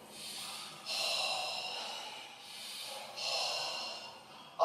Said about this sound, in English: Take a deep breath. Breathe out.